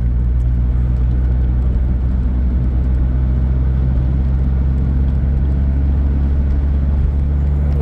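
A rebuilt Smart car cruising at around 40 mph on a bumpy back road, heard from inside as a steady, loud low engine and road rumble that holds constant throughout with no talk.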